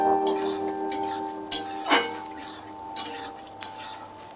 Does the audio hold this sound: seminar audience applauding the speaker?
no